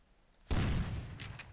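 A single shotgun blast in the Rust survival video game, fired at a bear, hits with a sudden sharp boom and a short rumbling decay.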